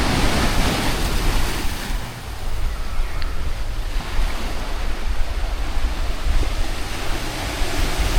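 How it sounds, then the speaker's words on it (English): Big waves pound a small eroding beach at Bang Niang in Khao Lak, Thailand, a loud constant roar of surf with wind rumbling across the microphone and no voices. "Big waves here."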